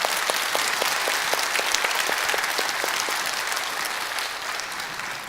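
A church congregation in a Korean Bible class gives a big round of applause. Dense, even clapping fills the room throughout and fades slightly toward the end.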